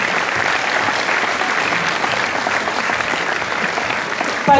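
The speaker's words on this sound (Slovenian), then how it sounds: "Pa še en velik aplavz za Mažorete iz Sevnice" Applause from a crowd at an outdoor folk concert in Koprivnica, a loud, even wash of many hands clapping that holds steady for several seconds.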